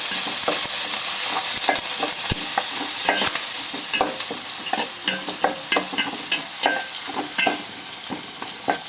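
Onions and curry leaves fry in a hot pan with a bright continuous sizzle while a spoon stirs, scrapes and taps repeatedly, close up and without talk.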